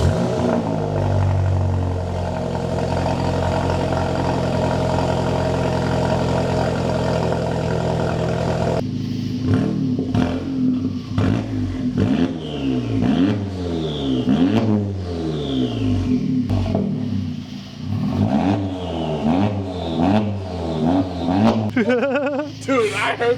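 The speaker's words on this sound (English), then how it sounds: "the downpipe is on and we are going to go ahead and give it its first start." A Volkswagen GLI fitted with a massive 4.5-inch ARM downpipe fires up for its first start, with a steady engine drone giving way to loud, repeated revving sweeps that climb and fall, while people talk nearby.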